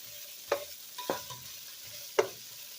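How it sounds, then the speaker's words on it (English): Onions sautéing in a pan for great northern beans: a quiet background sizzle punctuated by three distinct clacking stirs or tosses, spaced irregularly, with no talking. "grab a little handful and toss them in. A couple handfuls. Yes. Saute that around"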